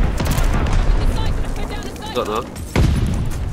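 Light machine gun fire in Warzone, the video game, in bursts of shots mixed with other in-game noise, with someone talking over it.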